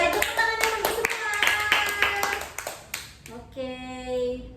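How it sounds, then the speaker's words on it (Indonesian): Children in a classroom clap for everyone, a quick run of close, uneven hand claps mixed with children's voices and cheering, ending in a sustained voiced tone. "Tepuk tangannya untuk semua."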